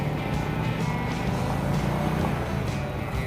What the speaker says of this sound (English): Sounds like it's got a bit of an exhaust leak or something. It's kind of ticky.